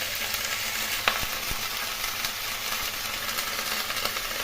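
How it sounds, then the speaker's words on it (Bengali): Cauliflower pieces fry in a pan, a steady close crackling sizzle with occasional faint clicks from stirring, even in loudness throughout and without any talk. "ফুলকপিগুলো দিয়ে দিলাম। এখন খুব ভালো করে ভেজে নেবো।"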